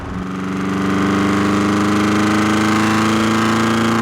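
A Koenig Specials widebody Mercedes 560 SEC engine drones steady and loud with a deep, throbbing rumble, holding an even pitch throughout with no voices.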